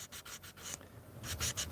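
Short strokes of sanding across a leather edge in a workshop, a few quick rubbing passes, a pause, then more scratchy strokes, close and fairly quiet.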